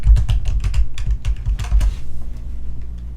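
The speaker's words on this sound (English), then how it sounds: "Let me try typing Timothy Byrne." Rapid clacking keystrokes on a computer keyboard, close and crisp, in a quick burst for about two seconds before trailing into quieter room noise.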